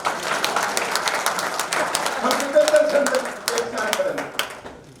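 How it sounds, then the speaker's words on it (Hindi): An audience at a poetry recitation event claps throughout, a loose, continuous patter of hands under and around a voice speaking over it. "शोरनाथ के सदस्य बैठे हो तो ताली बजा दो।"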